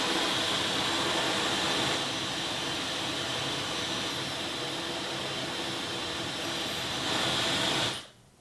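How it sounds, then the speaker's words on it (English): A Dyson Supersonic Professional hair dryer blows with a loud, steady airy roar, its fan pitch stepping between speeds a couple of times before cutting off almost instantly at the end. "I'll go ahead and do it again, but at different fan speeds"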